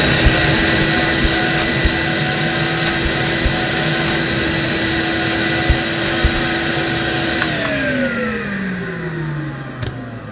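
Hoover S4386 Aquatronic vacuum cleaner running with its wand removed, a steady loud motor whine drawing suction through the bare hose, its pitch sliding lower near the end as the load changes.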